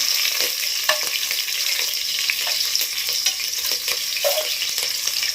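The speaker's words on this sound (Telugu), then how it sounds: "3 పచ్చిమిరపకాయలు తీసుకుని అది వేసినాను. ఇలా వేగుతుంది." Green chilies and garlic frying in a pan as part of an egg biryani, a steady close sizzle with faint stirring clicks throughout, no voices.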